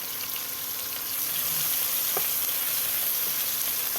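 Bitter gourd and other vegetables frying in oil, a steady, close hiss of sizzling with a single brief clink of a utensil partway through; no speech.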